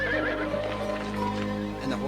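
A horse whinnies in a loud, wavering neigh over a steady background hum, with a voice also present.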